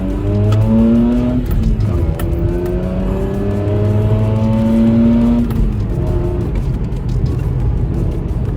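A Mazda RX-8 rotary engine pulls hard through the gears on a road drive, its loud, buzzy note rising in pitch several times with brief drops at each shift, heard close and with no talk.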